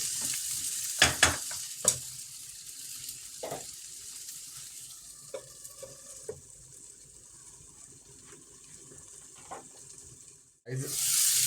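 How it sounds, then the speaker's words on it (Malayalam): Crab curry simmering in a pot on a low flame, with a steady soft bubbling hiss and a few clanks of a spoon stirring, then a louder rush near the end. "നമുക്കിതൊന്ന് ലോ ഫ്ലെയിമിലിട്ട് നമുക്കൊരു 5-6 മിനിറ്റ് ഒന്ന് ഇത് വേവിച്ചെടുക്കണം ഞണ്ട്."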